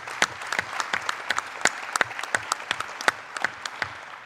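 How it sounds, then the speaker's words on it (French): An audience applauds a ceremony's 42 award laureates at a medical research plenary session, a dense patter of many hands clapping steadily with sharp individual claps standing out, no talk over it. "on peut les applaudir si vous voulez"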